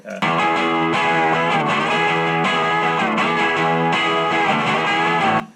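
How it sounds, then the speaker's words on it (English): A dense, distorted musical track with a lo-fi detune effect giving a slow, asymmetrical warbling pitch wobble across the whole mix, playing continuously at a loud, even level. "put the lo-fi setting, but only the detune, so like a really slow asymmetrical vibrato on the whole track"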